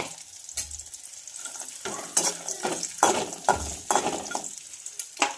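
Peanuts, cumin and garlic sizzling in a pan of hot oil while being stirred, a steady frying hiss broken by repeated scraping and clinking of the spoon against the pan, close and alone with no talk.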